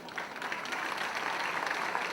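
Sustained applause from a concert audience at an outdoor live show in Bagnoli del Trigno, a dense, steady wash of many hands clapping at close range with no voices over it.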